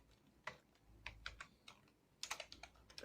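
Keys clack on a computer keyboard while a letter is typed in Microsoft Word, with quick irregular taps and a brief flurry near the end, close and fairly quiet.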